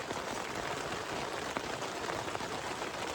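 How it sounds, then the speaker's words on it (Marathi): Steady, dense rain pours down at a rainy campsite, a continuous near hiss with a few sharper drop hits and no voices. "पाऊस जायचं नाव नाही घेत, पाऊस भरपूरच पाऊस आहे यावेळी"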